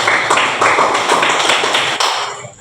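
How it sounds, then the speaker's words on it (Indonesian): A student group in a classroom gets a burst of applause, dense close hand clapping from several people that lasts a couple of seconds and then tapers off. "Ya, aplaus dulu untuk kelompok 3"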